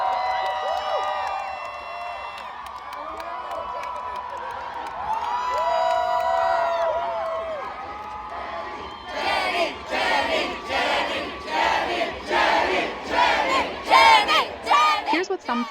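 A huge festival crowd at a Coachella K-pop set shouts and screams in unison, first sustained collective cries, then rhythmic surging chants and cheers that pulse loudly and repeatedly.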